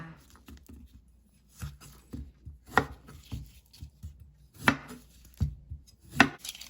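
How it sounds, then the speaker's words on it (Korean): Knife slicing sweet potato on a cutting board in a home kitchen, a series of close, distinct chopping thuds at an uneven pace with quiet gaps between. "그러면 고구마를 썰어 보겠습니다"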